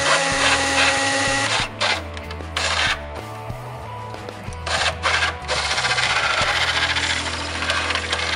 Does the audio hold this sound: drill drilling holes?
yes